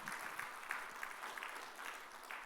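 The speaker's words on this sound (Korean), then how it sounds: "하나님께 영광의 박수 올립니다" A church congregation applauds in worship, a faint, distant wash of many hands clapping steadily for a few seconds.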